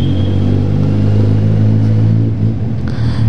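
A motorcycle engine, ridden to practise clutchless gear changes, revs up loudly and steadily with a deep rumbling drone, then dips briefly as a gear is shifted before pulling on.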